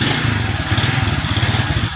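A motorcycle with a slipping clutch runs close by at a loud, lumpy idle, its engine pulsing in a quick regular beat for a couple of seconds with no speech over it.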